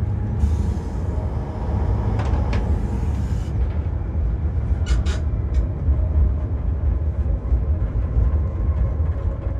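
An empty ST44 "Gagarin" Kolomna diesel locomotive running on a Polish line toward Kutno, heard from the cab as a steady, loud engine drone and rail rumble, with brief higher squeals and rattles.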